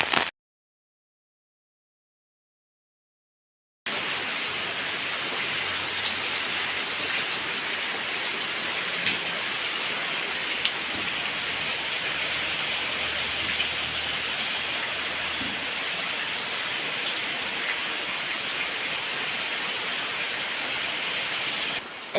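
Heavy morning rain pours steadily in a village, a dense continuous hiss of drops on surfaces that stays loud and even throughout, following a brief silent gap at the start.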